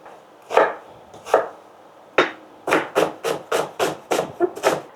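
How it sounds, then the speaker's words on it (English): A knife chops red onions into cubes on a board: three spaced, crisp cuts, followed by a quick run of about eight rhythmic chops, loud and close, with no talk. "Now we shall cut the onions into cubes."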